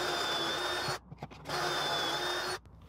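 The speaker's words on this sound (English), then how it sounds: "I hold this in place and then drill those 2 holes" A power drill boring two holes in wood while the piece is held in place, two steady whirring runs, each ending abruptly, with a brief quiet gap between them, close by.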